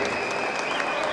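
A basketball tournament crowd in Tlaxiaco gives a brief, steady round of applause at halftime, a moderate clatter of hands lasting about a second, with a faint tone under it.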